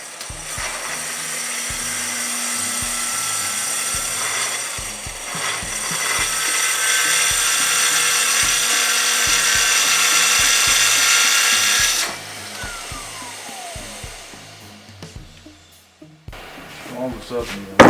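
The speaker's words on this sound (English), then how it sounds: "I'm confident enough to use Festool tools with dust extraction, saws, inside a finished house." Festool TS track saw with dust extraction cutting wood: a loud steady high whine lasting about twelve seconds with the extractor running, then spinning down, while someone talks over it throughout.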